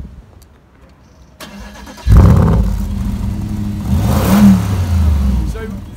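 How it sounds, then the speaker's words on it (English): A 2011 Audi RS5 FSI Quattro with an optional sports exhaust fires up after a quiet moment, then a loud, close engine rev swells and settles into a deep throbbing idle with a second rise. "These big things here make the big shouty noise. It's the sports exhaust that you can get as an extra on the RS5."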